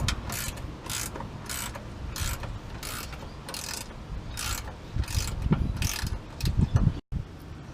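Spanner loosening nuts on a Magna fuel filter, a rapid series of metallic ratcheting clicks in a steady rhythm, close and clear, followed by some clunks of handling.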